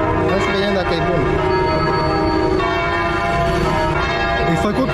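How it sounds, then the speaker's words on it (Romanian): Church bells ringing loudly and continuously in Vietnam, overlapping peals with a rich ringing tone filling the whole clip. "hai că bat și clopotele"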